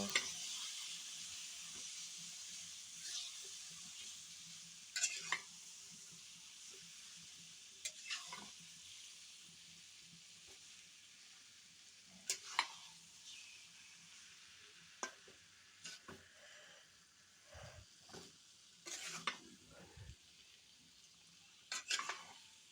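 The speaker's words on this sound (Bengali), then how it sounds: "তো সিদ্ধ করে নেওয়া চালতাগুলো দিয়ে দিলাম এরপর এগুলো ভালোভাবে নেড়ে চেড়ে মিশিয়ে নেব" Boiled chalta (elephant apple) being stirred through a sizzling pan of pickle, with repeated scraping, clinking strokes of a spoon against the pan over a steady low frying hiss, close and fairly quiet with no talking.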